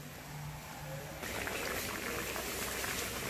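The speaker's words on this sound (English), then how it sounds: "So here you can see potato is cooking" Potatoes bubbling in a pot of boiling water, a steady dense hiss and churn that grows louder partway through, with no talk.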